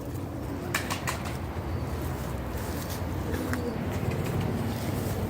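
Ukrainian marbled high-flying pigeons coo softly at a distance, with a few brief bursts of wing flapping early on against a low outdoor hum.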